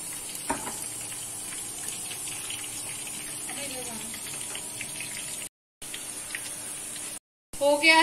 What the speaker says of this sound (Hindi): एक तरफ हमारा तड़का बन रहा है